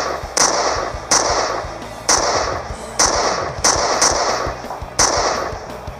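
Edited gunshot sound effects for an amateur shooting film, seven sharp loud reports at irregular intervals of roughly a second, each followed by a short decaying tail, with no talk.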